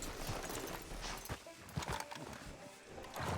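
Horse hooves clip-clopping at a walk in Red Dead Redemption 2, a few uneven close hoofbeats over a low ambient bed, fairly quiet.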